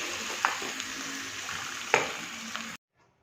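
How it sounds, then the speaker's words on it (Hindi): Green chili with ginger and garlic paste frying in a pan, a steady soft sizzle with a few sharper crackles and stir clicks, close and alone before cutting to silence. "अब यहाँ पर अदरक लहसुन की हम अच्छी खासी बुनाई करेंगे कि इसकी स्मेल जो है वो ख़त्म हो जाए।"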